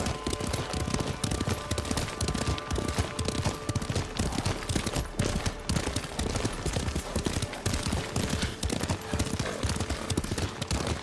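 Rapid, steady horse hoofbeats in the game Ghost of Tsushima pound continuously in a galloping rhythm, loud and close, with dense rumbling noise throughout.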